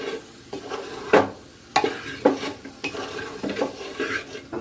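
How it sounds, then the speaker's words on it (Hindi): A spoon stirs vegetable biryani in a pressure cooker, with a series of clinking scrapes against the metal pot at an irregular pace over a soft background hiss. "अब मैं इसे चला लूंगी।"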